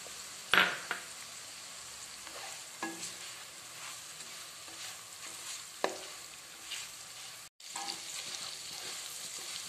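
Masala spices frying with tengamora and chopped chillies in a pan give a soft steady sizzle, broken by occasional scrapes and clinks of a spatula stirring against the metal.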